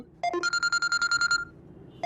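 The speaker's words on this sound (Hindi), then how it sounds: "फोन उठाओ." A phone rings with a rapid series of short electronic tone pulses, clear and close, then falls briefly silent before starting again.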